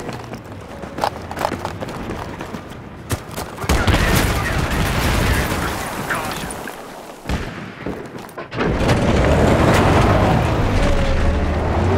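Sustained machine gun fire in a Battlefield 3 Conquest match on Gulf of Oman, dense rapid bursts mixed with booming explosions, loud and continuous with brief lulls.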